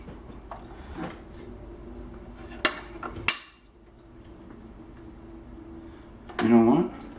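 Plastic parts of a Sunsun HW-303B aquarium canister filter being handled and reassembled, with a few sharp clicks and knocks and a scraping clatter at the end over a low steady hum.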